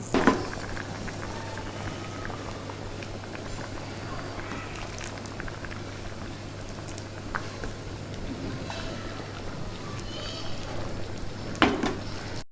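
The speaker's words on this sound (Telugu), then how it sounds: "పొన్నగంటి ఆకుని పప్పుని ఒక ఇరవై నిమిషాల సేపు బాగా ఉడకనిస్తాను" Amaranth leaves and dal simmer in a pot, a low, steady bubbling hum with faint pops and an occasional clink of cookware, quiet and close.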